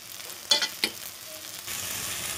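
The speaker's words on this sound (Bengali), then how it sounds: "ভালো করে মশলাটা এবার কষাতে হবে।" Masala paste with salt, turmeric, chilli and coriander powder fried in a kadai: two quick scraping stirs, then a rising, even sizzle, close and without talk.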